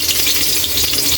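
Garlic hitting hot cooking oil in a pan for pork and chicken adobo, giving a steady, close, loud hiss of frying with no talking over it.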